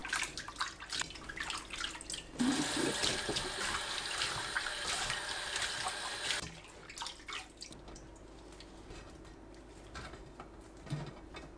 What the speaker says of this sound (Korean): 물에 헹굽니다.